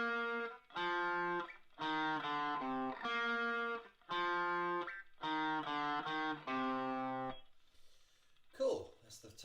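A distorted electric guitar plays an opening riff as single picked notes in a steady melodic line. It is close and clear, and a brief voice comes in at the end.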